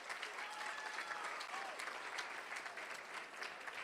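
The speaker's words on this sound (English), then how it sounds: "Let's give her a round of applause." Steady applause from a board meeting audience honoring a recognized student, a dense even wash of clapping that holds at a moderate, somewhat distant level for the whole stretch.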